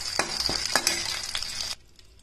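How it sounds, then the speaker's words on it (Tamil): Onions and red chillies sautéing in a pan: a bright, close sizzle broken by several quick stirring scrapes, lasting under two seconds before cutting off abruptly to near silence. "வெங்காயம் நல்லா வதங்கிடுச்சு"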